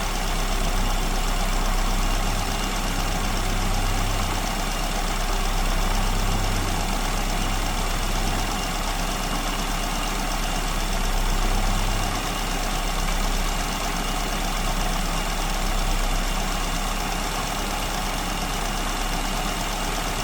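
An engine with an SU carburetor idles steadily near 1,000 RPM, a continuous close rumble with faint low pulsing and no talk over it.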